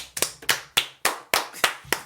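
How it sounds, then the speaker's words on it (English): A round of applause from one or a few people during a podcast, about eight sharp, close claps in an uneven rhythm over two seconds, alone with no talking. "Round of applause."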